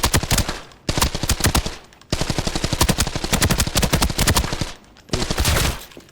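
An assault rifle in the video game Arena Breakout fires in long full-auto bursts, loud, close and rapid, with several short pauses between strings of shots and no talking.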